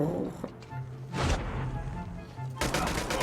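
Pistol gunfire from the mobile shooter game Call of Duty Mobile, with bursts of sharp shots at the start, in the middle and again at the end amid game effects and music.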